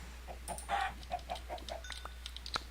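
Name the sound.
chicken clucking in Minecraft modpack video game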